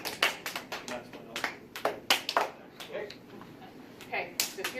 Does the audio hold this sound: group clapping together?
yes